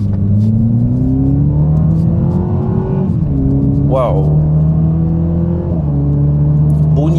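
A stock Toyota Supra MKV with its 2.0-litre engine revs steadily from inside the cabin, a loud continuous drone that climbs and dips in pitch, with a brief spoken exclamation over it.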